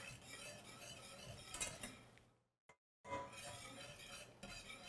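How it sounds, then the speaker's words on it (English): Turmeric and curcumin from two capsules being whisked into warm milk in a pot on the stove, a soft continuous swishing and light metallic ticking, quiet and close, broken by a brief moment of silence. "you're going to add in your turmeric plus your curcumin. So this is 2 capsules, whisking that in."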